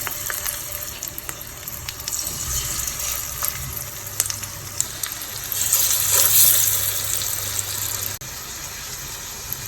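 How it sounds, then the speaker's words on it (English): Raw jackfruit kebabs fry in hot oil in a pan, giving a steady, close crackling sizzle that swells louder for a stretch, with a brief clunk near the end. "Now pan is hot, so then place the kebab on the hot pan."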